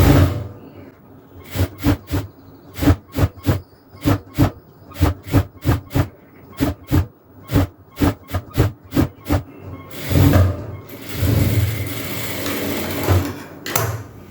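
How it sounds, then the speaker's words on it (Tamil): A sewing machine stitches pleats on an inskirt in a series of short, loud bursts of rapid stitching separated by brief pauses, ending in a longer continuous run. "மேல் பக்கமாக வச்சுட்டு அப்படியே மேலே ஒரு தையல் போட்டுடலாம்"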